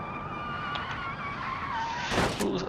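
A sedan in the car-building game Automation scrapes along a steel guardrail, with steady engine drone and tire noise and then a harsh, bright scraping screech near the end.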